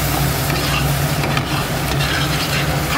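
Spice paste with salt and Kashmiri red chilli powder being sautéed in a pan, giving a steady close sizzle and fry with stirring scrapes throughout, no voices.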